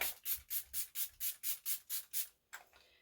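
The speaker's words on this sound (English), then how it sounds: "next I'm going to do my setting spray. This is the Milani Make It Last." Ten quick, evenly spaced hissing bursts of Milani Make It Last setting spray misted close up, followed by a softer, fading spritz.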